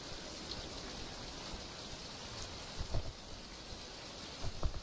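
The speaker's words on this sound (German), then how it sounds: "Es regnet einfach den ganzen Tag." Steady rain in a survival video game, a soft continuous hiss of falling drops with a few faint low thumps toward the end, quiet and without speech.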